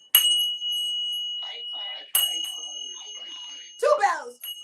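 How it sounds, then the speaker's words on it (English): A bright bell strikes twice before a fight, each ring sharp and lingering, about two seconds apart, with a voice talking loudly between and after the rings. "2 bells. Fight!"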